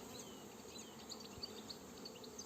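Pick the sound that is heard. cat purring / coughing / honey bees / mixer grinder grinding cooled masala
honey bees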